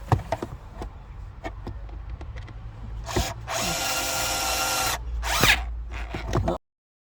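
Power screwdriver tightening a screw on a car's cabin filter housing: a clear whirring burst of about a second and a half, followed by a short second spin, amid small clicks and handling taps.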